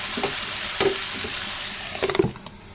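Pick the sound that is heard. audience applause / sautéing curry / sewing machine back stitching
sautéing curry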